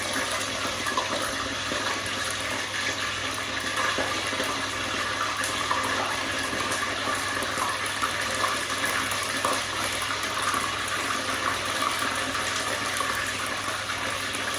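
Spicy sweet and sour chicken balls crackle in hot oil during a second deep fry, a loud, unbroken, close-up hissing sizzle that runs evenly for the whole stretch without any voices.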